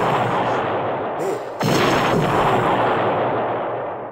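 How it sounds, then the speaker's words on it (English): A booming fire magic explosion in Lunacid with a sudden rumbling blast that swells and crackles loudly, then slowly fades over a few seconds. "This stock explosion sound effect is just incredible."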